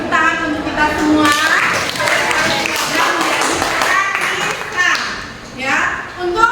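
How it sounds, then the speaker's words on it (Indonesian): Children in a classroom clap together in a steady burst of applause, mixed with their voices and chatter, close and fairly loud for several seconds. "Jadi tepuk tangan untuk kita semua."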